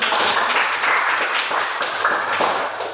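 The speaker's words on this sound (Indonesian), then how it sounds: "Silakan dikasih tepuk tangan." Classroom applause during a lesson on drug dangers, a short burst of steady, fairly loud clapping from a group of students.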